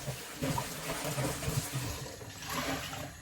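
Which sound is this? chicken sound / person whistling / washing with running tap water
washing with running tap water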